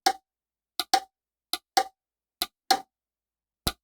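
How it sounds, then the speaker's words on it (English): Sharp, close clicks from a smart plug's relay, eight of them at irregular intervals, crisp and isolated against silence. "like any smart plug, the sound of the relay is quite clicky"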